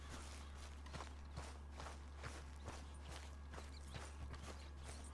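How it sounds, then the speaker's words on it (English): A horse walks in Red Dead Redemption 2, its hooves giving a steady, evenly spaced clip-clop over a constant low hum. The hoofbeats are quiet and there is no talk over them. "Let's get on my horse and let's head somewhere."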